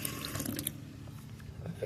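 A school water fountain runs with a soft, steady splashing trickle of water, faint and close, with small drips and bubbly sounds.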